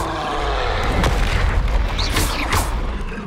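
A Bombarda spell explosion in Hogwarts Legacy lands as a dense, rumbling boom with a couple of whooshing bursts, loud and close, filling the whole moment.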